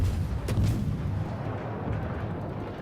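Naval guns on a warship in a video game booming in a couple of heavy, deep blasts near the start, then a long rumbling roll of low noise fading away, with no talk.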